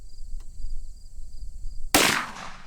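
A single sharp .44 Magnum gunshot firing a 240-grain XTP round from a ranch hand rifle at a bench, loud and close, cracking suddenly after quiet hiss and fading quickly.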